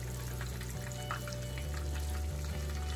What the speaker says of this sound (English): I'm frying him flounder fillet.